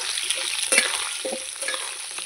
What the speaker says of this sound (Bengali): এবার নাড়াচাড়া করে নেব